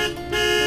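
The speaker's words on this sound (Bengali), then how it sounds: "ঠিক তখনই বাড়ির সামনে গাড়ির হর্নটা বেজে উঠল।" A car horn sounds in front of a house as a sound effect in a spoken story, a loud sustained honk with a short dip partway through and no talk over it.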